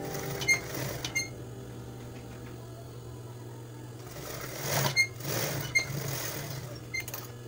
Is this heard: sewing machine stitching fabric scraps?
yes